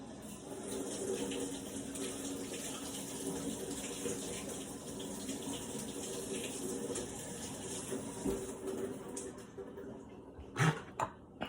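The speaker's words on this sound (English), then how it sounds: "I'm going to rinse the cranberries off of here" Cranberries are rinsed under a running kitchen tap, a steady close wash of water that runs unbroken for the whole stretch, with a brief knock near the end.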